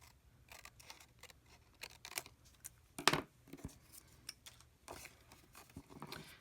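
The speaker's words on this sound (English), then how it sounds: "I'm also going to cut along that top score line." Scissors cutting paper card along a score line, producing soft, close, irregular snips and rustles with one sharper crisp cut midway, faint and without talk.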